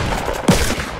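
A single loud revolver gunshot in the Fortnite video game, a sharp crack over a busy, noisy game background.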